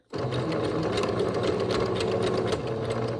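A sewing machine runs continuously, stitching elastic shirring across fabric, a steady close mechanical whir with fast needle rhythm that starts abruptly and holds for several seconds, no talking.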